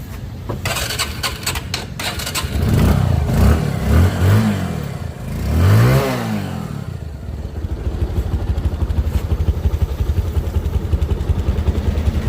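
A second-hand Bajaj Discover 135 motorcycle in original colour and good engine condition runs close by, with two rising and falling revs before it settles into a steady, even idle.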